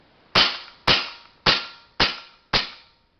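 Evanix AR6 shrouded air rifle fired double action five times in an even rhythm, each a loud sharp crack with a short decay, nearby and with no voices.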